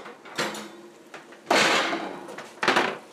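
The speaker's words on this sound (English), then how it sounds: "let's get this guy out of the oven" A Caesar chicken and hashbrown casserole comes out of the oven: three separate clunks and thumps of the oven door and the dish being handled, each dying away quickly.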